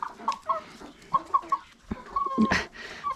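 Rooster on a ranch giving several short, close clucks and chortles in an irregular rhythm, with a louder squawk near the end among farmyard sounds.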